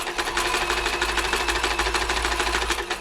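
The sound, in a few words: Toyota model 2640 sewing machine running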